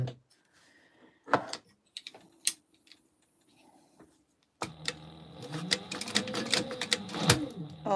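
A Sailrite sewing machine sewing a quarter-inch seam on a gingerbread house gift holder jams and breaks a pin: a few sharp mechanical clicks and knocks, then a dense, loud burst of rattling and grinding machine noise.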